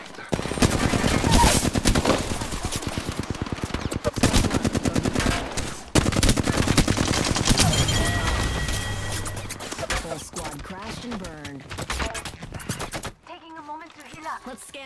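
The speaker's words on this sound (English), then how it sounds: "Those shots are from another squad" Sustained automatic gunfire from a rival squad in an Apex Legends match, loud and nearly continuous with brief pauses, giving way to scattered shots and game voice lines near the end.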